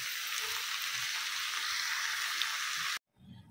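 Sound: spinach and brinjal curry frying in a pan

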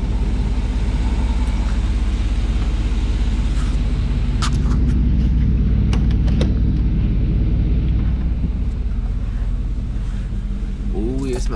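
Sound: Chevy engine running and rumbling

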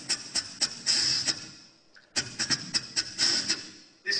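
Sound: beatboxed hi-hat imitated by voice with T sound

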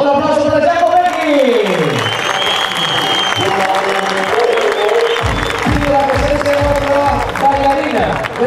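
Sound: crowd applauding rally driver at event

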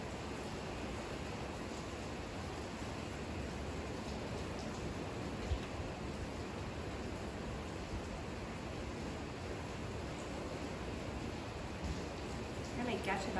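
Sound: heavy rain pouring down outside

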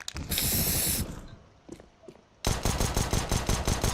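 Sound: spray paint tag sprayed in CS:GO video game

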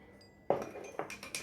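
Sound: salt spooned into a glass of water

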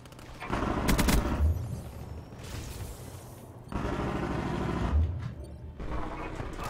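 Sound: gunfire in video game Call of Duty: Black Ops 3

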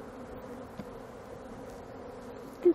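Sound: honey bee swarm buzzing in an opened hive

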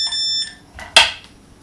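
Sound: alarm beeping

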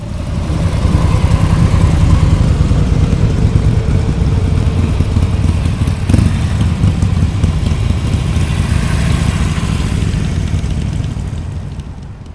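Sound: ATV two-cylinder engine running

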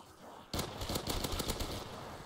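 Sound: pistol gunfire in Call of Duty zombies video game

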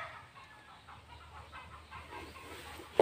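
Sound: chickens clucking

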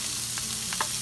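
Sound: vegetables frying in vegetable oil in a preheated pan

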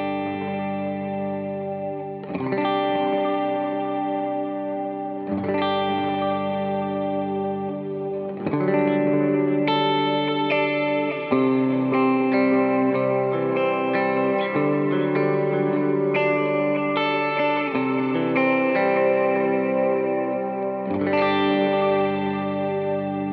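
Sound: electric guitar clean tone with reverb, delay

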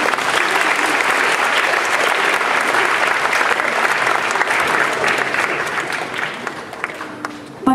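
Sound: audience applause

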